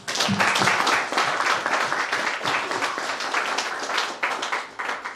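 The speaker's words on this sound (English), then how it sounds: "Could we please give them a round of applause?" An audience at a breakfast seminar applauds continuously, dense clapping from many hands that stays steady before tapering slightly at the end.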